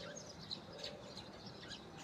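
Small birds chirp and tweet in quick, scattered calls over a harvested rice field, faint and somewhat distant against a steady background hiss.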